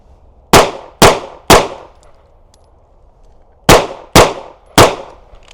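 A Smith & Wesson M&P 2.0 Compact pistol fires six sharp, loud shots at a shooting range, in two quick bursts of three separated by a short pause, each crack ringing briefly, with no voices.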